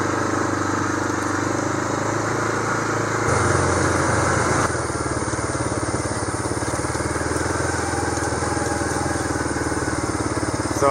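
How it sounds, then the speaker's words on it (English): A tractor engine runs steadily on a farm. The close, even rumble holds at one level with a slight shift partway through. "Get on the tractor for a little while."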